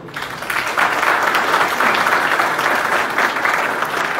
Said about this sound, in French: je vous demande de bien vouloir applaudir chaudement le directeur général de l'ONA